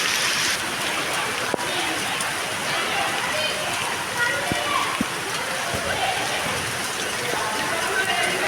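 Steady rain falls outdoors during a football game, a dense hiss of drops with a few sharper taps and splashes, constant and close, under the patter of nearby leaves.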